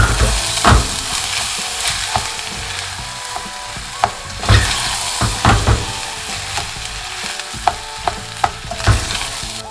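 Rice stirred and fried in oil in a pot for oyster and radish rice, with a steady sizzle and repeated scraping stir strokes of a spoon against the pot, close and fairly loud, with no talking.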